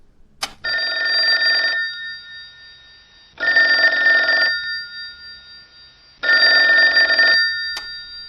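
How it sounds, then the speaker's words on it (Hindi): A telephone bell rings loudly and close in three long, evenly spaced bursts, each about a second long, with silence between them and no voices. "अचानक फोन की घंटी बजी।"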